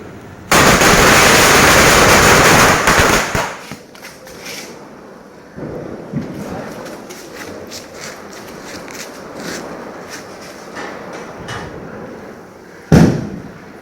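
Diwali firecrackers burst in a dense, loud crackling volley lasting a few seconds. Scattered pops and snaps follow, then a final sharp burst near the end.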